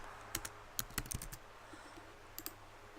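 Keys on a computer keyboard are tapped in a few quick bursts of crisp clicks, separated by short pauses, fairly close and alone with no talk.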